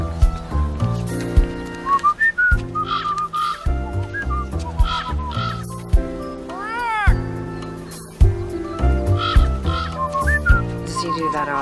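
Whistling in a crime drama, heard as clear, melodic whistled notes with pitch slides and warbles, running in phrases over a low background accompaniment.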